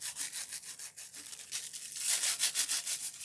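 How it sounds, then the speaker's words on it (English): A stiff, short-bristled Scotch-Brite nail brush scrubs an ornament during foiling work, making soft rhythmic back-and-forth rubbing strokes that grow quicker and denser in the second half, close and fairly faint. "And this is just a nail brush made by Scotch-Brite."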